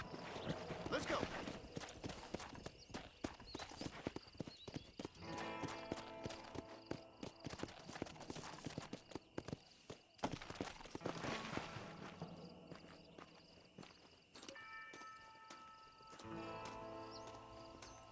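Horse hooves clip-clop in the Red Dead Redemption video game, a steady trotting rhythm mixed with game music and effects while a voice speaks over it at times.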